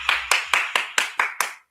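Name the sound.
clapping hands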